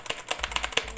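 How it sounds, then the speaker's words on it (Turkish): Rapid, fairly quiet clicks come from the blue switches of a Gamepower Calypso waterproof optical mechanical keyboard as a few keys are tapped in quick succession. "Klavyenin tuş sesi bu şekilde arkadaşlar."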